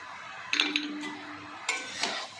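A pot of bottle gourd payesh gets stirred and covered, with a few sharp metal clinks and taps of spoon and lid against the pot, separated by quiet pauses.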